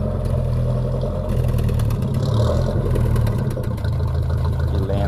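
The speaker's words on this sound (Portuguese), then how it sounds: "O barulho da marcha lenta não tem nada melhor, né?" A 1975 Ford F-75 pickup fitted with a Chevrolet Opala engine and running on alcohol fuel idles close by, its loud, steady low rumble carrying an uneven lope from start to finish.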